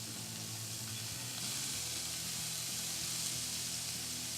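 Four strips of bacon crisp in a skillet with a steady, dense sizzle that holds evenly throughout, swelling slightly about halfway, with no voices.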